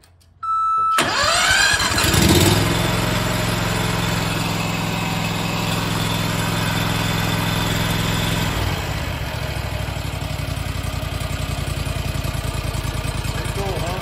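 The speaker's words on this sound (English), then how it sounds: "I fire up the engine." A 1980 Rounder L600 fitted with a new engine cranks past a brief warning beep, catches and roars up. It then settles into a steady, somewhat low idle that drones on for several seconds close by.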